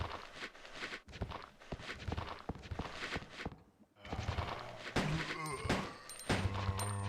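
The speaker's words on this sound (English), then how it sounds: "And I hear the shambling of zombies." Zombies shambling in Resident Evil 2, dragging footsteps mixed with dense game noise and sharp gunfire bursts, loud and cluttered throughout, with a short lull midway.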